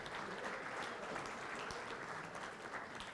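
Audience applause at a live scholarship auction and team bidding event, honoring a team captain from Princeton: a steady, dense wash of many hands clapping at moderate distance, sustained evenly throughout with no talk over it.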